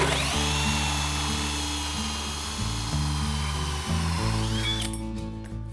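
A heavy-duty Harbor Freight Hercules drill bores a 3-inch hole, its motor holding a loud, steady whine under load that dips in pitch several times as the cutter bites, then winds down near the end.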